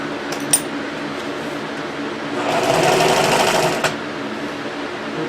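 Sewing machine running at full speed while reupholstering a golf cart seat, a steady close mechanical whir that swells louder in the middle and is broken by a couple of sharp clicks.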